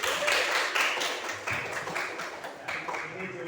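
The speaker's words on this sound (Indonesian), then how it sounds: "tepuk tangan untuk para jomblo" Classroom applause as students clap their hands for the single classmates during a school lesson, a dense, steady patter of many hands close by with a few rhythmic surges.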